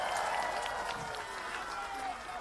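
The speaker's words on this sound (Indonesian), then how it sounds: "Tepuk tangan buat semuanya." A crowd at an Anies campaign rally in Samarinda applauds and cheers in a dense, loud wash of clapping and voices, with a voice carrying over the noise.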